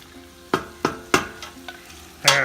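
Red and green peppers dropped into a chili pot, several sharp scraping and sizzling bursts spaced about every third of a second, then a louder sustained sizzle at the end, close up with no talk.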